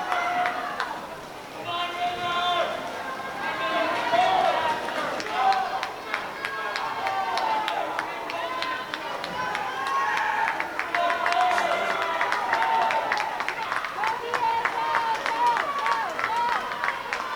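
Spectators cheer for swimmers at a varsity high school swim meet, a steady roar of shouts, whistles and applause echoing around the pool while a commentator talks over it.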